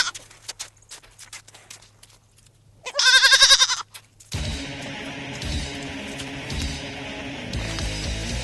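A young goat on a farm gives a loud, quavering bleat up close. Before and after the bleat come clattering hooves and handling noises, then a steady jumble of farmyard sounds.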